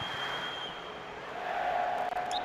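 Stadium crowd in a PES football video game, a broad, continuous roar of cheering that swells in the second half, heard alone without commentary.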